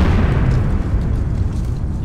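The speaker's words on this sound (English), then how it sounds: "hope they were right about the alcohol explosion" An alcohol explosion blasting a hole through a collapsing old building, a loud, close, sustained deep boom and rumble with no voices.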